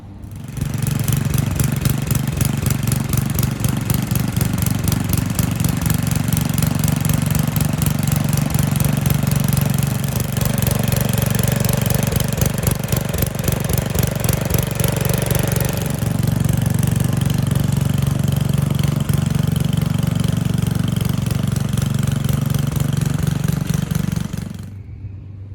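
A garden tiller engine runs loud and close while tilling sand into soil, a steady throbbing mechanical drone that holds for over twenty seconds before cutting off near the end.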